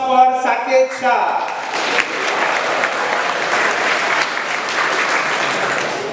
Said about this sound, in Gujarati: big round of applause four Saket Shah